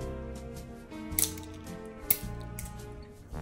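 Quiet snips of scissors cut through material, a few sharp clicks spaced irregularly against a faint background hum.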